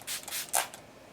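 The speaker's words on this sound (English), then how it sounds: "the spray on this is really nice" A makeup primer water mist sprays onto a face in a few short, soft hissing bursts, the last one louder and close to the microphone, with no talking.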